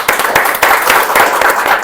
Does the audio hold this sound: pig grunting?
no